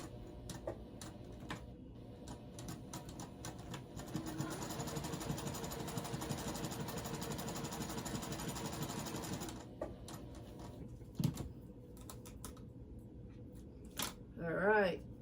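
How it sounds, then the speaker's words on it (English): A home sewing machine stitches fabric pieces together in a sewing room, a steady mechanical whirring run in the middle of the clip with short bursts before and after and some faint talk near the end. "I'm gonna start sewing this, construct this thing together"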